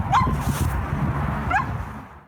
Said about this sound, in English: now I'm hearing barking, and so I'm like, I think there's a dog in the river